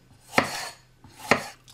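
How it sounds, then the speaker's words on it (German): Knife cutting a halved bell pepper into thin strips on a board, two crisp chopping strokes about a second apart, close and clear with no talk. "Und dann schneidet ihr ganz einfach schmale Streifen"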